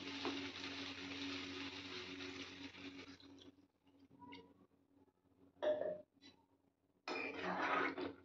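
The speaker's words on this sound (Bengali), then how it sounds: "এবার আমি জল দিয়ে দেব।" Water is poured into a pan of potatoes while cooking paneer aloo posto, making a steady hissing splash for about three seconds. Faint clinks and rustles of the pan follow.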